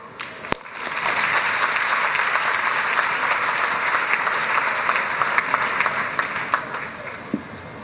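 Sustained audience applause fills a large hall at a new undergraduate student orientation, a dense, steady wash of many clapping hands with a sharp single clap near the start, continuing evenly before tapering slightly at the end.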